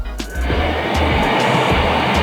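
The exhaust fan at the back of a Flux Beamo laser cutter and engraver starts up with a soft bump, then settles into a steady, close airy whoosh with a faint whine.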